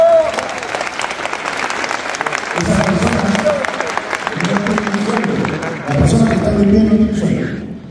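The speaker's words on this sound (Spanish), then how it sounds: "quiero que le den un aplauso a todas las personas que están aquí." Audience applause at a Peruvian real estate event in Miami Beach swells in waves of steady clapping, mixed with cheering and a speaker's voice over the crowd.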